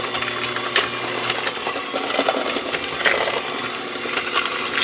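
Electric mixer running on a slow setting through zucchini bread batter with raisins and nuts, a steady whirring drone that holds for the whole stretch with no talking.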